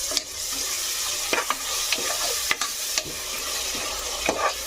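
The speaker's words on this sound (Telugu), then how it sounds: "అలాగే ఇప్పుడు కొంచెం మనం ఈ ఆనియన్స్ వేగుతున్న టైంలోనే కొంచెం కొత్తిమీర అయితే వేసుకుందాము" Onions frying in a pan for mutton curry as coriander goes in, a continuous soft sizzle broken by several sharp stirring clicks and scrapes of a spatula, close and alone without speech.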